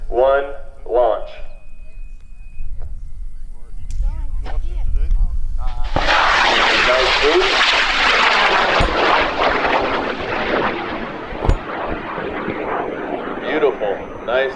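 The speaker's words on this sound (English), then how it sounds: "Eric Kainberg, launching your rocket in 5, 4, 3, 2, 1, launch." A high power rocket lifts off from the pad at a launch field in Argonia, Kansas, its motor roaring loud and sustained in a long, harsh burn that slowly fades, with people talking beforehand and crowd voices around the launch.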